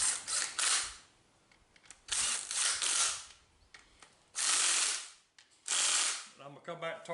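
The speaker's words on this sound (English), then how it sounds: "I just run them up with my little old impact" Small impact wrench running up connecting rod bolts on a 1964 Ford Falcon hot rod engine: four loud, buzzing bursts of about a second each with quieter pauses and clicks between them, close by.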